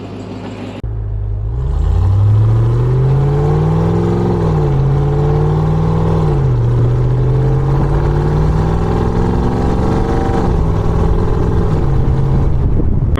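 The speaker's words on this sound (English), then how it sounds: "But here is a TRX. She sounds really good." A Ram TRX truck's engine drones loudly and steadily while driving, with pitch rising and falling through gear changes and throttle, close and continuous with no talking.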